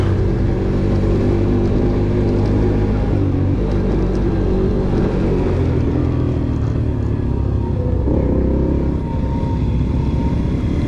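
A Romet Pony moped with a small 3.5 horsepower engine revs continuously at close range, its low buzzing drone rising and easing as the throttle opens and relaxes, with no talk over it.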